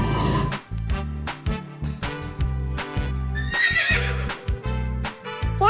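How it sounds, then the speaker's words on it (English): A horse gives a loud, close neigh and whinny, a rapid pulsing run of repeated tremolo bursts with a higher-pitched warbling stretch partway through. "They whinny softly when they're feeling happy and friendly, but when they neigh, watch out!"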